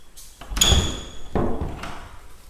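Doors leading to a garage in a Hawaiian home: two distinct bangs of a door moving and shutting with a metallic ring, close and fairly loud, without talking.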